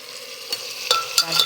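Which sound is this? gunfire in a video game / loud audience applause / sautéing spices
sautéing spices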